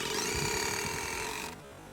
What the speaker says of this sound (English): I like to use something smaller, like the Milwaukee cordless screw gun. Simply move the obstruction, then drive the screw all the way in.